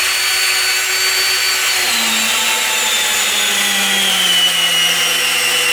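A Ryobi One drill driver bores through wood under heavy load, a steady whining drone that holds throughout while its pitch sags and drops lower as the bit bites in and the motor struggles.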